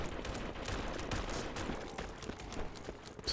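Dense, distant-sounding gunfire and battlefield rumble from a World War I trench war game, with sniper rifle shots mixed into a continuous noisy backdrop of shots.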